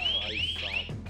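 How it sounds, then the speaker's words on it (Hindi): A camping safety light's built-in alarm siren, meant to scare off wild animals, wails in loud rising and falling electronic sweeps that repeat with no voices. "तो इसमें अलार्म सिस्टम है।"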